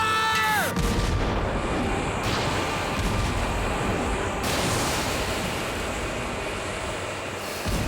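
Ship cannons fire in a naval battle scene from the 1997 film 20,000 Leagues Under the Sea: a thin whistle, then a loud, continuous booming roar of heavy gunfire and rumble with no clear gaps.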